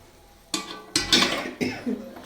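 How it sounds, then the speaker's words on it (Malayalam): Spice powders for Kerala fish pickle stirred in a pan over a low flame, with several sharp scraping clatters of a spoon against the pan in quick succession. "പൊടികൾ നന്നായിട്ടൊന്ന് വഴറ്റി കൊടുക്കും"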